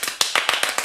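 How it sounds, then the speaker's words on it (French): A handful of sharp hand claps close by, about six quick evenly spaced slaps in under a second. "Attends, faut applaudir là."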